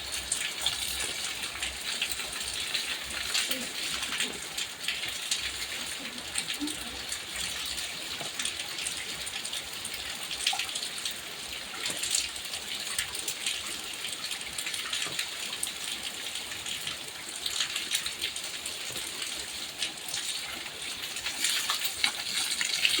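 Steady rain pours down outdoors while someone bathes in it, a continuous broadband wash of water and falling drops with no speech, even in level throughout.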